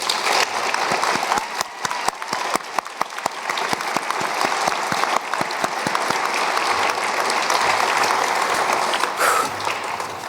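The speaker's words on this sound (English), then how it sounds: "So how about a round of applause for all of our graduates?" A large audience at a family medicine graduation applauds the graduates, dense and loud clapping that holds steady for about ten seconds with sharp claps poking through.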